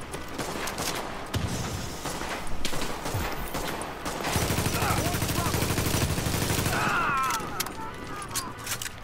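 Bursts of automatic gunfire from a firefight in The Division at the Lincoln Tunnel checkpoint, with rapid volleys and single shots, close and loud, mixed with shouting voices.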